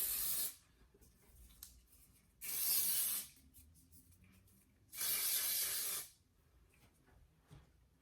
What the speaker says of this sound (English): go ahead and spray each section like that. And I just spray both sides